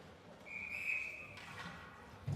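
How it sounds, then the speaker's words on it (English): A single sharp referee's whistle blast at a high school ice hockey game, fairly faint and distant over a low arena murmur. "Whistle sounds as the puck leaves the ice."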